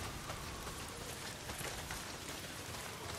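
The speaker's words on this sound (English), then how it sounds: "not if it's pissing down rain" Heavy rain pours down in the video game Days Gone, a dense, constant hiss of drops hitting surfaces that fills the whole stretch with no voices.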